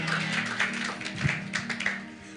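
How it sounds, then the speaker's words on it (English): Church congregation clapping hands at an Easter convention service, scattered claps ringing out across a reverberant hall at close to moderate distance, with a steady background hum. "Somebody clap your hands and give God some praise."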